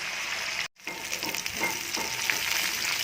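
Cluster beans fry in hot oil for a coconut fry dish, giving off a loud, continuous close-up sizzle with faint stirring. The sound drops out for a moment early on.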